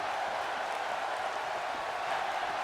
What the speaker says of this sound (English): This crowd has come unglued for Samoa Joe